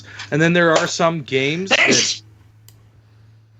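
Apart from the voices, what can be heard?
sneeze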